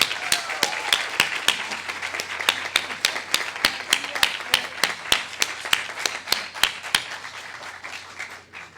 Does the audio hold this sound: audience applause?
yes